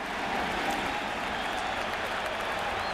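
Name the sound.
baseball crowd at Shea Stadium applauding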